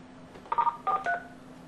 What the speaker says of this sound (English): We're going to dial our echo test of *43.